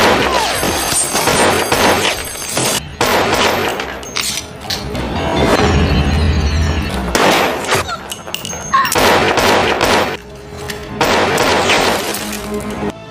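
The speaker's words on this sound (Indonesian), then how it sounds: "Ajing lalu memberi tembakan melindungi mereka bertiga." Gunfire crackles through a film shootout scene, with bursts of shots and impacts recurring across the clip amid dense, loud action sound and music.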